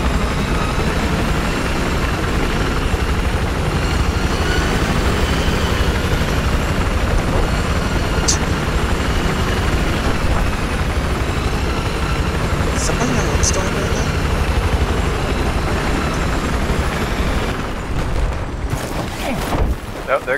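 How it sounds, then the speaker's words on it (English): Military helicopter in a Battlefield 4 multiplayer match, a steady loud rotor-and-engine drone running throughout amid game noise, with faint distant booms and gunfire and players talking over it. "There goes the chopper."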